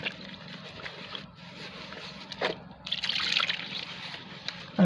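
Lukewarm water poured onto yeast and salt in a bowl while making kesra bread dough, a light trickling and splashing running through the clip with a brief louder gush near the end.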